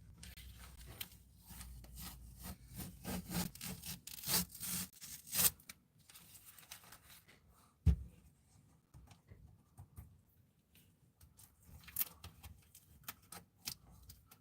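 Quiet, irregular rubbing and scraping strokes of sanding a wooden guitar body, with scattered clicks and knocks.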